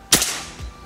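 A single sharp shot from a PCP FX air rifle loaded with pellets from a magazine, a crisp close crack with a short tail, fired once and then quiet.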